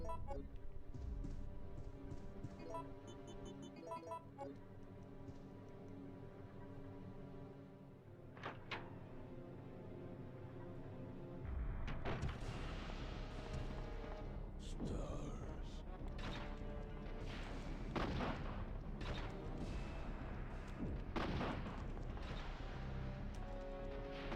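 In the Resident Evil 3 video game, Nemesis fires rockets that land as sharp, crashing blasts. Several heavy bursts come through loud game music and ambience, with a denser run of impacts in the second half.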